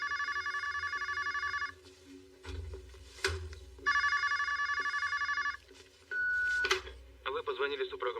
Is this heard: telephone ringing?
yes